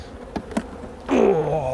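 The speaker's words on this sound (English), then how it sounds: "you can see already there's a lot more bees in this box" Honeybees buzz around an open hive box during colony splitting with swarm cells, two brief close passes early on, then a loud, steady swarm drone swelling in and holding to the end.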